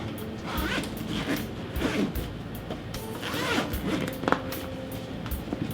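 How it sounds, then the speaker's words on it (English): A zipper on a Nelson Rigg CL-2015 motorcycle tank bag is pulled in several short, raspy strokes, close up, with light rustling of fabric and handling noises. "We've got the zipper down here."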